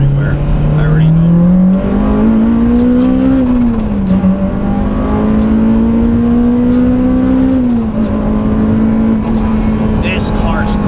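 A Honda Civic Type R engine climbs in pitch, drops briefly at each gear change, then keeps rising, loud and close, with occasional voices under it.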